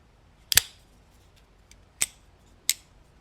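Three crisp metallic snaps of a USA-made slicer folding knife blade flicking open and shut, one sharp double click followed by two single clicks, close and distinct against a quiet room.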